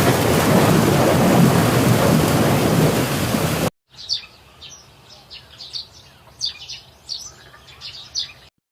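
Cartoon thunderstorm with rain, a loud roaring burst of rain and thunder that cuts off abruptly, followed by quiet bird chirps scattered in repeated short calls.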